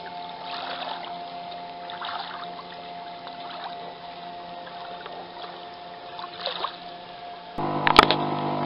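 A small motorboat pushes slowly upriver, its steady low engine drone and faint water wash running continuously at mid distance before swelling louder near the end.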